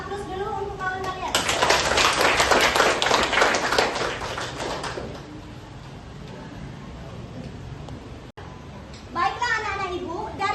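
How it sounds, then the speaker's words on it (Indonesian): A classroom of students applauding a classmate, with dense, lively clapping that lasts several seconds and then fades, and a voice speaking just before and after. "Kita beri aplaus dulu untuk kawan kalian"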